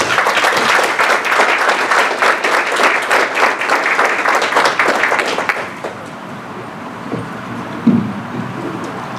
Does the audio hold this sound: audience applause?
yes